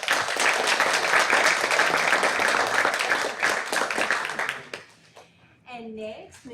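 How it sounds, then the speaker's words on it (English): Audience at a school board of education meeting applauding a teacher, a brisk round of clapping for about four seconds that fades out, followed by someone speaking. "Let's give Hillary a round of applause."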